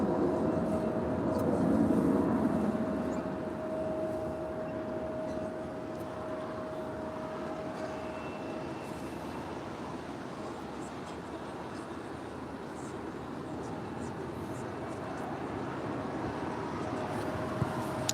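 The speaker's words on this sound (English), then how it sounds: "JetBlue Airways Flight 880 heading to Las Vegas. A320 now making her way down to 25 right." A JetBlue Airbus A320 landing on runway 25 right at LAX: a steady distant jet roar that swells early and then holds as a broad, even rumble, with faint voices in the background.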